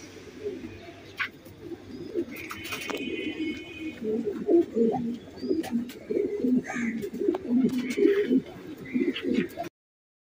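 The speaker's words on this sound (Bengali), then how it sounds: "এই যে এখানে এক পেয়ার কবুতর আছে" A pair of pigeons coos in repeated low, throaty bursts that grow louder and busier midway, with faint higher chirps and clatter around them, close by and without talk.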